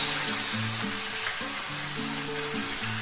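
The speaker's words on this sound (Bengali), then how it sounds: "এবারে এগুলোকে আমি এখন কষিয়ে নেব" Vegetables sautéing in a pan for a curry served with roti, paratha and luchi, giving a steady close sizzle with faint stirring and no talk.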